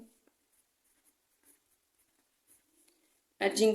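Faint, sparse scratches of a pen or marker during a maths lesson on edging cost, with soft strokes scattered through near silence. A voice cuts in right at the end.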